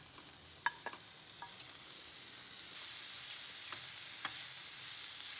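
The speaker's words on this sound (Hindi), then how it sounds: "अभी मैं इसमें ब्रोकली ऐड कर देती हूँ जो हमने बॉईल करा था।" Boiled broccoli tipped into sautéing vegetables with mushrooms and peanuts, giving a few close clacks of a spoon against the pan over a soft, steady sizzle that grows slightly louder partway through; no talk.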